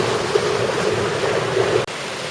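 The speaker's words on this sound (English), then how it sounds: "here we are again, just a few minutes upstream at yet another beautiful waterfall" Steady rushing water from a waterfall along a hiking trail in Zion National Park, a dense continuous roar heard close, with a brief dropout near the end.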